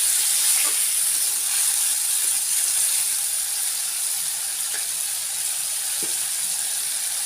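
A steady, close hiss of masala spice paste frying in a pan, with occasional soft pops and scraping ticks over the constant sizzle.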